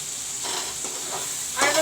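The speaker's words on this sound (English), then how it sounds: "I will let the tomatoes fry a bit and then use the masalas." Chopped tomatoes for a chicken curry sizzle in a hot pan while they are stirred, a soft steady hiss that swells louder near the end.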